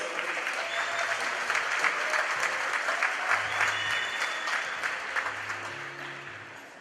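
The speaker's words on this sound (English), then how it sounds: "Please give her a warm round of applause." An audience at the South African Library Week launch claps for Miss Nomutola Musa, a dense, steady round of applause lasting several seconds and tapering slightly at the end.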